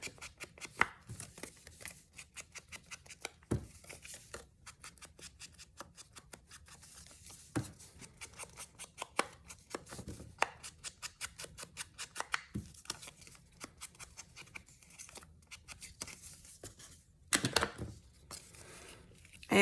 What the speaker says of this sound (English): So I'm going to cut it